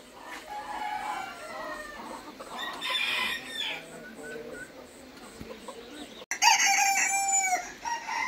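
Brahma chickens on a farm cluck steadily and crow repeatedly, close and clear, with a sharper burst of crowing near the end.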